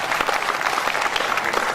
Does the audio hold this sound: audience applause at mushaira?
yes